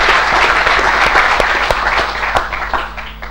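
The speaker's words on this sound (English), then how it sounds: "give these people a round of applause" Audience at the ISU graduation ceremony applauds with loud, dense clapping that thins out slightly toward the end.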